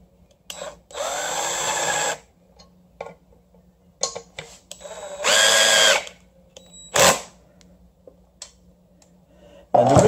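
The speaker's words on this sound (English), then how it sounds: "Use the self-tapping screw, and we'll provide a chuck for you," Power drill driving a self-tapping screw into a steel bracket during a Miata V6 engine installation, with two sustained whirring bursts and several short trigger pulses, close and loud against a quiet garage.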